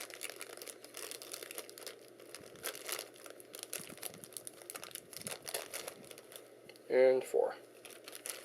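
Crinkling of a small resealable plastic parts bag at a workbench, a faint rustle that surges in two short, close bursts near the end over a quiet background, with a voice speaking briefly.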